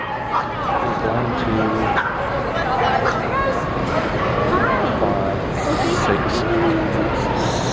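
Miniature Pinscher dogs at a specialty dog show, a crowded indoor ring with a big group of dogs, yipping and barking in scattered bursts under steady crowd chatter and nearby talk.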